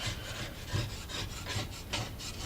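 Old gaskets are scraped off a Kohler K582 engine with a scraper, a close, rhythmic rasping of repeated strokes, each a gritty scrape of roughly a quarter second.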